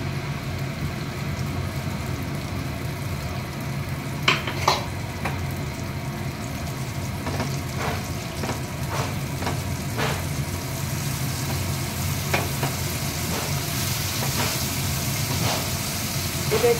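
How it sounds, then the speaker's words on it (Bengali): Rohu fish spice paste with a torn bay leaf fries in a pan, a soft, continuous low sizzle heard close, dotted with occasional faint clicks and scrapes of stirring, and no voices. "এটা একটু কষাবো।"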